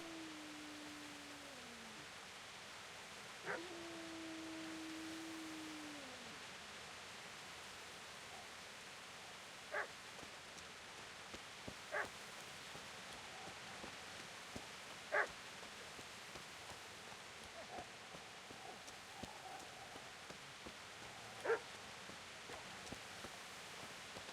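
A distant dog in Kingdom Come: Deliverance gives several short, faint barks at irregular intervals over soft game ambience, with a few thin tonal sweeps near the start and no voices.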